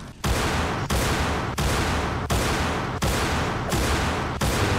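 Bursts of loud gunfire in the Rising of Evil video game mod, six sustained volleys of rapid shots separated by brief sharp breaks, close and dominant with no voices.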